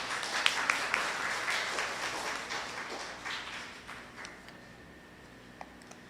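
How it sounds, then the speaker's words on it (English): Audience applause at a university linguistics event launching an indigenous language rights policy brief: a round of clapping that starts moderately full and thins out, fading to a few scattered claps. "Let's give him a round of applause."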